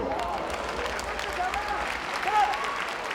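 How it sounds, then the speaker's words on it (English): Applause from a wrestling crowd at a Japanese hardcore wrestling event, a continuous rumble of clapping and crowd noise under a commentator's voice, with a louder swell near the end. "And the audience really applauding this back and forth action."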